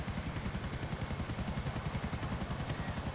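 A helicopter in GTA IV makes a steady, close rotor chop, a fast regular beat with a broad engine roar beneath it and no voices.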